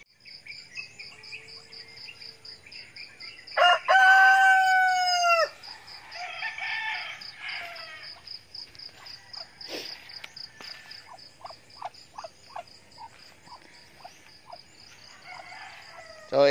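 A rooster crows loudly and close on a farm that keeps 45-day-old broiler chickens, one long strained call. Steady insect chirping and softer clucks and calls from the flock continue around it.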